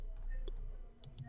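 A computer mouse clicks a few times while orders are adjusted in ProRealTime 10.3 trading software; the clicks are short and faint, sitting over a low, steady background hum.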